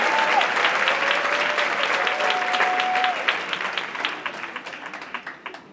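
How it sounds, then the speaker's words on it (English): Sustained audience applause fills a live poetry and arts show at the Aronoff Center, dense and steady for about three seconds, then thinning into scattered claps as it fades, with a faint tone running underneath. "give Annie a big round of applause"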